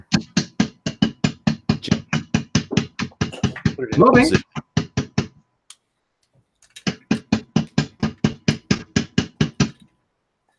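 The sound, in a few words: hammer tapping while mounting rifle scope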